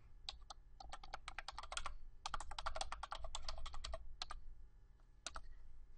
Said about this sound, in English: In the text box with the blinking cursor, type your search.